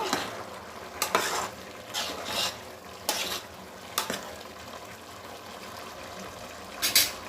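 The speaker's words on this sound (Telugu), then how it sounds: "చక్కగా ఉడుకుతుంది ఒకసారి తిప్పుకుంటానండి నేను" A ladle scrapes and stirs vegetable pulao in a pot, the strokes coming in irregular bursts over a low steady sizzle of cooking.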